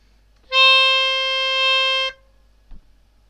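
An instrument plays one sustained half note with a bright, harmonically rich tone, held steady for about a second and a half before cutting off, followed by a faint knock.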